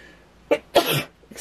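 A short catching inhale, then one forceful, breathy sneeze up close, followed by a softer exhale.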